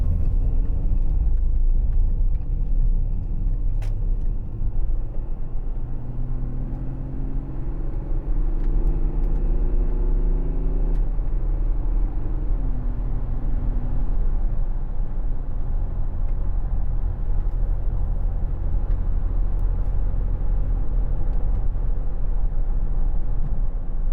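A 2010 Audi Q7 3.0 TDI S line diesel SUV with Tiptronic gearbox accelerates on the road, its engine note rising in steps through the gears over steady road rumble from inside the cabin.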